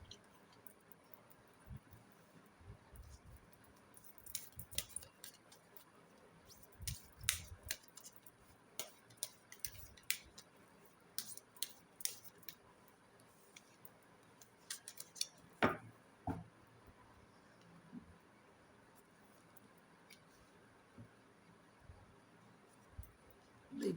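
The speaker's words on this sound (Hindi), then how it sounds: "अब आपके लिए कार्ड निकालते हैं।" Tarot cards shuffled and drawn for a past-life reading: soft papery flicks and light taps scattered across the stretch, fairly quiet and close, with no talking.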